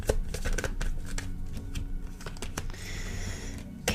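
Tarot cards riffle and slap as they are shuffled and drawn, a dense, close run of papery flicks and taps with a few sharper snaps, fairly soft and without talk.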